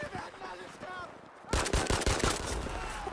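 Gunfire from a gun in the video game Battlefield V: a soft quieter stretch, then from midway a loud, fast burst of rapid automatic shots crackling close up and continuing to the end.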